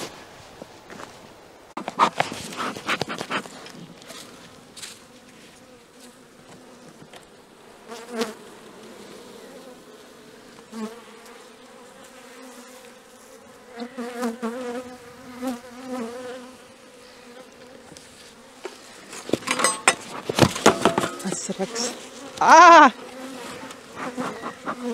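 Honeybees swarm around a hive in early spring, a dense, continuous buzz throughout, loud with individual bees passing close, plus rustling and handling noises and a few louder bursts near the end.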